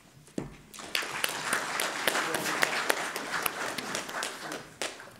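An audience claps after a speech at a broadcast event, dense steady applause building quickly and holding for several seconds before tapering slightly.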